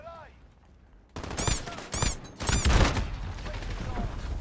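Rapid bursts of gunfire from a new weapon in the video game Modern Warfare ring out in clusters of quick shots with metallic reload-like chirps, loud and close, a voice briefly audible beneath.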